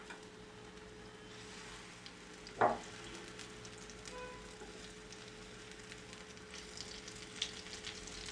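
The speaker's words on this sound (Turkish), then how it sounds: "Yine tavama yeterli miktarda yağ koydum. Yağın ısınması çok önemli arkadaşlar. Şimdi harcımdan döküyorum." Potato and capia pepper batter poured into hot oil in a pan gives a faint, steady frying hiss with one brief louder burst near the start, quiet throughout with no talking.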